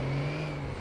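Truck engine in GTA 5 held at maximum RPM, a brief sustained mid-pitched droning whine with a steady tone, moderately loud and alone.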